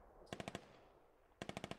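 Automatic gunfire aimed at bunkers in the Squad video game: two quick bursts of about four and six rapid shots, separated by a short lull, fairly faint and with no talk over it.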